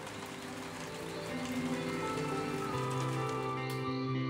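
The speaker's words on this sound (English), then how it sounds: "I also love this casual restaurant with rain coming down" Steady rain falls outside a casual restaurant, a continuous dense patter heard up close with faint tonal hum and background sounds running beneath it, with no talking.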